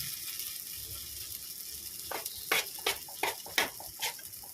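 Poppy seed (posto) fritters frying in a pan, a steady oil sizzle with a series of sharp crackles and spoon scrapes toward the end, no voices.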